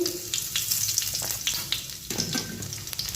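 Whole cumin seeds sizzle in hot oil, a close, steady frying hiss dotted with sharp crackles and pops throughout.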